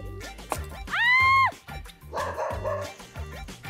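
A small dog barks angrily in short, sharp, repeated bursts close by, with one longer high yelp in the middle, over rhythmic thumping music in the background.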